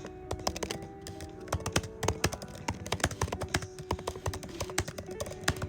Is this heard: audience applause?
no